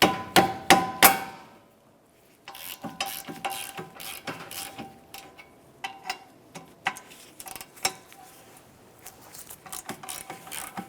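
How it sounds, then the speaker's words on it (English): A socket wrench ratchets on the 15mm caliper bracket bolts of a 2014-2022 Chevrolet Trax, a few loud clicks, a pause, then a long run of quicker, lighter ratcheting clicks close by. "The caliper bracket mounting bolts are a 15mm socket or wrench."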